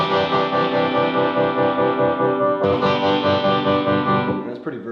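An electric guitar played through a Vox amp's built-in tremolo throbs with a rapid, regular volume pulse on sustained chords, loud and close, with a change in setting midway.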